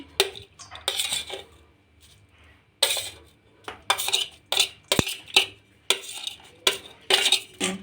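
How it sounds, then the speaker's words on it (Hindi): A spoon clinks and scrapes against a bowl in short, irregular bursts while chopped garlic, chillies and coriander are mixed into mashed chokha, with soft pauses between strokes. "और इन चीज़ों को अब हम इस चोखे में एक साथ मिला देते हैं।"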